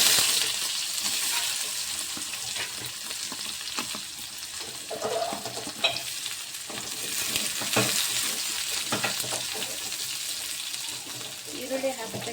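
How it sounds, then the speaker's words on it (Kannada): Onions sizzling and frying in hot oil with mustard seeds and cumin in a pan, a steady close crackle broken by stirring scrapes and clinks, with a brief voice partway through. "ಇವಾಗ ಈರುಳ್ಳಿ ಹಾಕೋತೀನಿ ರೀ."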